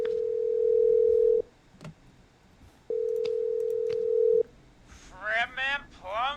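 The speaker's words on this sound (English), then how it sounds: "we're calling back one of our earlier callers, Virginia Sullivan." Telephone calling back a caller in the game Killer Frequency: two long steady ringback tones separated by a pause, loud and close, with short clicks between, followed by a voice talking.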